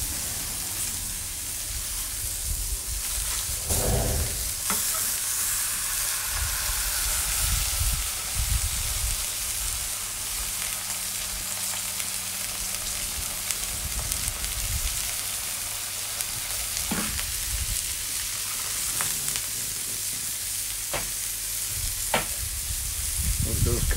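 Bacon-wrapped moink balls sizzle and fry steadily in a pan, a continuous close crackling hiss with occasional louder pops and stirring knocks throughout, no talking.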